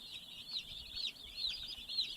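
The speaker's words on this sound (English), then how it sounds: "There we go, 200 chicks." Cornish Cross chicks in a pallet-and-scrap brooder holding two hundred birds give a continuous dense chorus of high peeping, steady and fairly close, with no talk.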